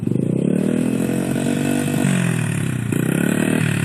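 Honda CRF100 dirt bike engine running steady and loud up close, a rough buzzing drone that dips slightly in pitch then picks back up, with no talking over it.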